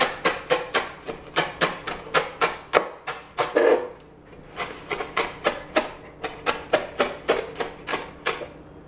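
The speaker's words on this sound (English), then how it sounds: "I'm going to take the parsley and chop it up fine" A knife chops parsley finely on a cutting board, with rapid, steady close-up thuds in a long even rhythm that pauses briefly before resuming.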